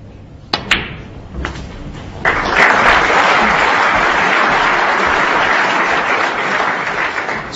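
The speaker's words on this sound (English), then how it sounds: "Round of applause from the crowd, acknowledging the fact that that was frame, virtually frame ball." Snooker crowd in the arena applauding during a match between Stephen Hendry and Neil Robertson, a few isolated knocks first, then loud, sustained, even clapping from the whole audience.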